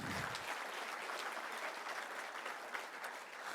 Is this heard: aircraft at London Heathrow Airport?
no